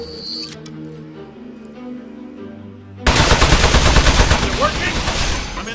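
Automatic gunfire rattling against metal targets in the video game Aperture Desk Job, a dense, loud burst of rapid shots that erupts abruptly after a stretch of quieter game music and chimes, continuing steadily to the end.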